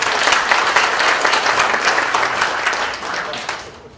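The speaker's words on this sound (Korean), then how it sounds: "여러분 같이 박수를 한번 해주세요." An audience at a seminar symposium claps together in loud, full applause that holds steady for several seconds and then tapers off.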